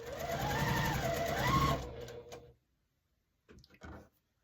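A sewing machine stitches a pieced pressed-flowers quilt block, running in one continuous, close whirring burst for about two seconds before stopping, followed by a couple of faint handling clicks.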